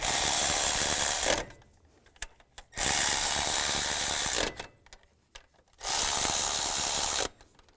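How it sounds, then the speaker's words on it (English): A ratchet tightens bolts on a power steering pump of a 2005-15 Nissan Xterra, in three long bursts of close, steady clicking separated by short pauses. "Tighten all these down."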